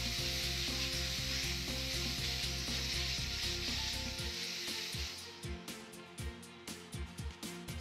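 A vapor steam cleaner fitted with a stainless steel detail brush scrubs baked-on buildup from an oven. A steady loud hiss of steam runs with rhythmic brushing strokes that become more distinct as the hiss eases, and no one speaks.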